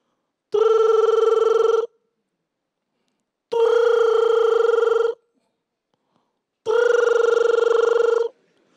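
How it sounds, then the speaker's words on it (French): A telephone rings out after a call is placed, three loud electronic ring bursts of about a second and a half each, separated by silent pauses. "Je prends le téléphone, j'appelle."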